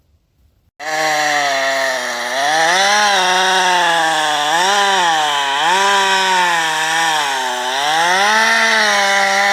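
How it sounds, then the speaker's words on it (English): A chainsaw starts abruptly and roars loudly and continuously, its pitch dipping and rising as the blade bites into wood. "The sharp chainsaw screamed, its blade biting deep into the dense wood."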